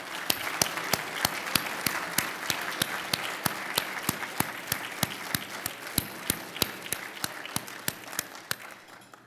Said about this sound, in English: Let's give the directors of athletics a round of applause